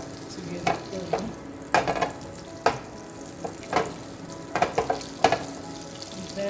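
Butter melting in a hot pot makes a soft, continuous sizzle, broken by irregular scraping clinks as the pot is moved and stirred, close and fairly quiet with no voices.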